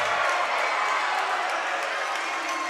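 A crowd in the stands at a high school volleyball match cheers and claps in a steady, roaring wash, with a commentator's voice talking over it.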